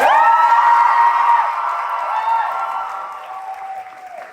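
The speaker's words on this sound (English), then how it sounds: "can we get one more round of applause for our amazing cast?" An audience applauds loudly, steady clapping with a few cheers that slowly fades toward the end.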